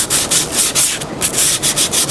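Wooden parts from a treadle sewing machine being sanded by hand, with steady back-and-forth rasping strokes in a quick, even rhythm, close and loud with a brief pause midway.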